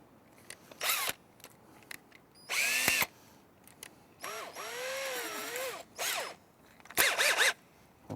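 A power drill with a number 2 bit drives rusty black-painted screws in several short whirring bursts of varying length, rising and falling in pitch, with quiet pauses between them.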